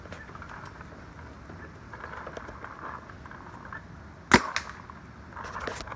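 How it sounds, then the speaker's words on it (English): A Vyper GSL paintball marker fires a single sharp, loud shot over a chronograph, followed by faint clatter under a steady background hiss. "I'm gonna shoot some balls over the chrono"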